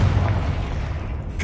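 A low, booming fire-blast spell goes off in Hogwarts Legacy, a short dull burst heard alone.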